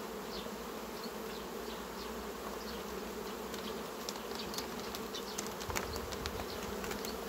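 Honey bees buzz steadily around a hive being treated with oxalic acid and glycerin strips during the active season, a dense continuous drone with individual bees flying close past.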